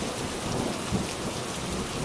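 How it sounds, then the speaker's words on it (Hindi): Heavy rain pours down steadily with a dense, unbroken hiss, and a low thunder rumble rolls beneath it throughout. "बारिश शुरू हो गई।"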